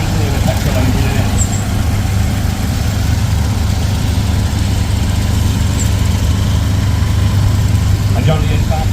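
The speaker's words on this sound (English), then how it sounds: "The old model being principally the petrol engine in it" An old John Deere tractor with a petrol engine idles loudly and steadily at a steam show, a continuous low rumbling drone held close throughout with no break.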